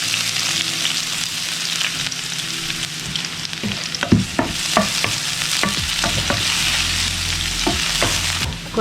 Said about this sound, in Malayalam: അപ്പോൾ ഇത്തിരി ഓയിൽ ഒഴിച്ചിട്ട് നേരത്തെ ചതച്ച് വെച്ചിരിക്കുന്ന ഉള്ളിയിലേക്ക് ഇട്ട് കൊടുക്കുകയാണ്.